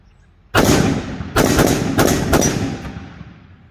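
A Ruger SFAR rifle fires .308 rounds in a quick speed run, four loud sharp shots at uneven short intervals, each cracking close by and leaving a ringing echo that fades between them.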